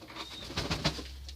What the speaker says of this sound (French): Quand vous avez donc un pigeon comme ça